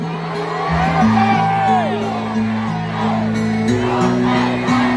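A large crowd of political supporters at a rally shouts and cheers together in loud sustained waves, with chanting voices and whoops over a droning background and music-like tones.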